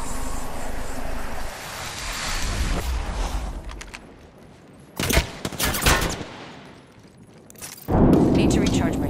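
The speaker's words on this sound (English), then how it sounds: "I'm taking shots." Video game gunfire comes in rapid automatic bursts and sharp cracks, loud and close, spaced by brief gaps and a heavy rumbling blast near the end, with a voice talking over parts of it.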